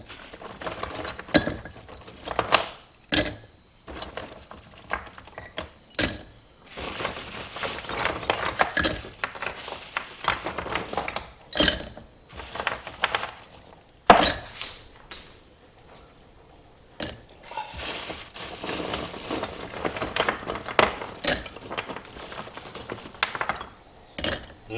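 Lead and zinc wheel weights, some with steel clips, clink and rattle against each other as they are mixed, a long run of sharp metallic clatters and jangling bursts up close, loud and irregular, with no talk.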